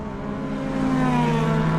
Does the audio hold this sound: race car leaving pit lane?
yes